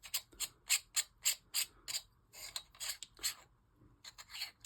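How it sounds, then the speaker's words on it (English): A separate silver metal ring on a knife hilt spins freely, making a series of quick, dry ratcheting clicks and rasps in close, irregular bursts with short pauses between. "So you'll see this can spin freely."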